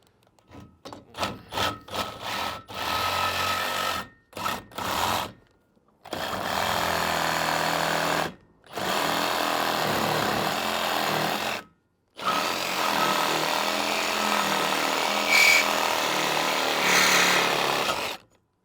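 A power tool cuts into a Tahoe T16 boat trailer in loud bursts, first short stuttering pulses, then several long sustained runs separated by brief silences, harsh and close with no speech.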